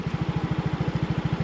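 A motorcycle engine idles close by on a long road trip from Lipa to Bicol, a quick, even, steady putter throughout the short moment.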